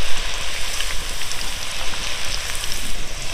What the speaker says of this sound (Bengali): এবার আমি আবারও যে আলুগুলো ভেজে রেখেছিলাম সেগুলো দিয়ে দেবো তেলের মধ্যে